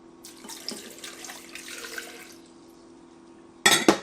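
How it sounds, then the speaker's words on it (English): Water is poured into a Ninja Foodi blender jar, a soft continuous splashing stream for a couple of seconds with a faint low hum behind it, then a brief sharp clatter near the end. "Let's actually add our water first."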